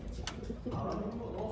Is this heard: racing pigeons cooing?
yes